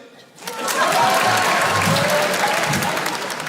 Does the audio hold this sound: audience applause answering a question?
yes